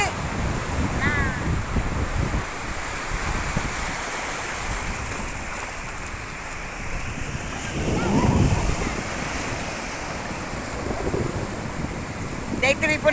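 Sea waves wash onto a shore with steady wind noise across the microphone, swelling in a louder surge partway through, with faint distant voices in the background.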